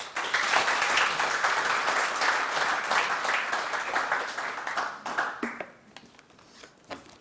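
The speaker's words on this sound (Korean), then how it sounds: "큰 박수로 청장님을 모시겠습니다." An audience at a defense industry society breakfast forum applauds to welcome the newly appointed Defense Acquisition Program Administration minister. Full, steady clapping fills the room, then thins into a few scattered claps and fades out.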